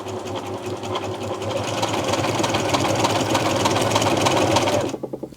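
A Singer 6268 sewing machine with a feeding fault runs steadily at close range, its motor whirring and needle chattering at a fast even rhythm, then slowing to a few last separate stitches before stopping.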